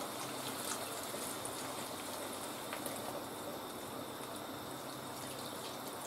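A litre of water pours into a paella pan as one steady, unbroken splashing rush at even volume for several seconds.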